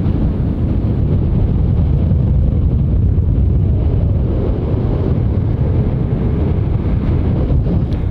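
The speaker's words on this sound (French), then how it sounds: "Après ici il y a énormément de vent" Strong wind on a coast of white sand dunes in the Canary Islands buffets the microphone in a continuous, loud roaring rush with no pauses and no speech.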